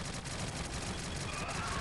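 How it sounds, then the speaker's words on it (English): Rapid SMG gunfire from the Shadowgun Legends shooter game, a dense, steady stream of shots filling the whole stretch with continuous crackling bursts. "I'm gonna try and SMG this guy."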